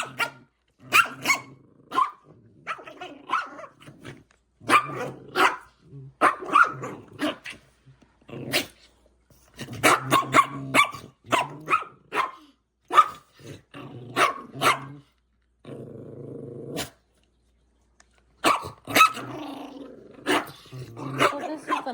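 A puppy barks in sharp bursts with low growls between them, loud and close, with short pauses of quiet.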